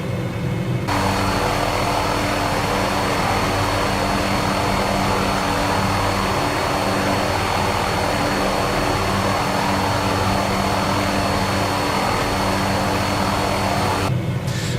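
Steady, loud rotor and engine drone of an MD 500E helicopter in flight in Microsoft Flight Simulator, droning on without a break for the whole stretch with no voices.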